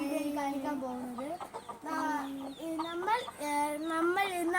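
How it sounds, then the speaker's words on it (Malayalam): Newly bought fancy chickens give a run of drawn-out, gliding clucks and calls, one after another, close by and fairly soft. "ഇന്ന് അതിനുശേഷം നമ്മൾ പുതിയ ഫാൻസി കോഴികളെ നമ്മൾ വാങ്ങിച്ചു"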